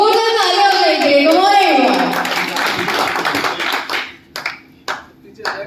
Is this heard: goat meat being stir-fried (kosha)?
no